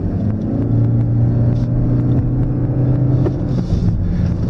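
A hatchback car pulls gently away from a standstill, its engine a steady low rumble that swells slightly as it gathers speed, heard from inside the cabin with no talking.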